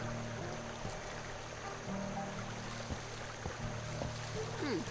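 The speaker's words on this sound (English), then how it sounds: "A swift, cold, pebbly, babbling brook." A swift, cold, pebbly babbling brook in the video game The Night of the Rabbit flows steadily as a continuous watery wash with faint trickles, alongside a low sustained musical hum.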